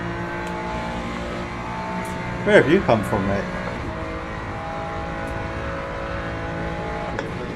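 A Ford Mustang race car in Le Mans Ultimate, the sim racing game, holds a steady engine drone with a brief rising growl in the middle, and someone speaks over it.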